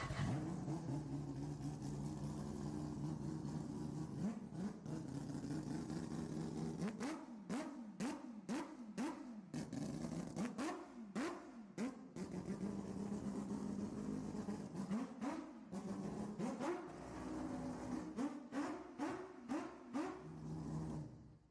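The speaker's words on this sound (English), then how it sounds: "that's not just idling, but when it's screaming, it is the best sounding frickin' motor" A small two-stroke engine fitted with a hand-built muffler runs close by, idling with a steady drone and then revving repeatedly in sharp rising and falling bursts before settling back.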